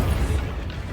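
An Incendio fire spell is cast in Hogwarts Legacy, a loud, deep, rumbling whoosh of flame and impact lasting about a second.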